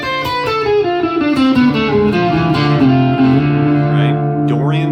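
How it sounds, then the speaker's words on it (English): D Dorian sharp 4 mode from the A harmonic minor scale, played on electric guitar as a run of sustained notes through effects and reverb, close and loud, with a slide at the end. "And then, D Dorian sharp 4 looks and sounds like this."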